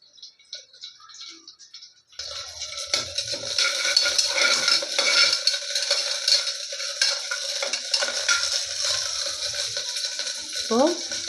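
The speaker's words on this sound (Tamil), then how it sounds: "ஒரு கொத்து கருவேப்பிலை போட்டுக்கலாம்." Curry leaves dropped into about a tablespoon of hot oil in a pan, sizzling and spluttering steadily with stirring and metal scraping after a quiet start, fairly close and loud.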